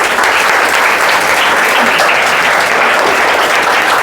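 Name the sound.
students clapping applause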